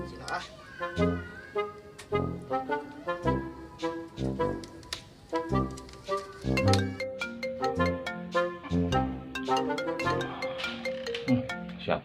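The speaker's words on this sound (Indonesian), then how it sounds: "Siapa sih yang nelfon?" A mobile phone ringtone plays a bright, repeating electronic melody, fairly loud and continuous for about twelve seconds with a steady rhythmic pattern.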